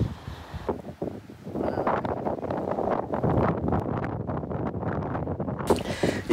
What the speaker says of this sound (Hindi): इतनी जोर की हवा चल रही है